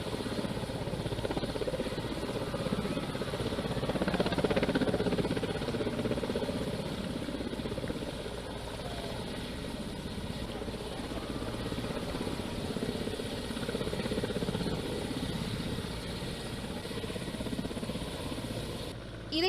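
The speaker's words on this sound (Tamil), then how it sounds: "விமானப்படையில் பயன்படுத்தப்படும் துருவ் ஹெலிகாப்டரின் சாகச நிகழ்ச்சியும் நடைபெற்றது." An Indian Air Force Dhruv helicopter performing aerobatics at an air display makes a steady rotor and engine drone that carries on without a break, fairly distant and moderately loud, with no talk over it.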